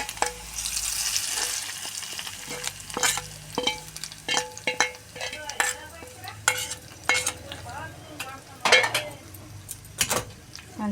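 A spoon stirs fried garlic tempering into spinach (palak) chutney, scraping and clinking against the bowl in steady strokes over a light background sizzle, close and fairly loud, with no talking.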